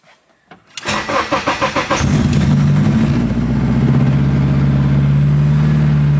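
A car engine cranks with several rapid starter pulses, then catches and settles into a loud, steady idle rumble.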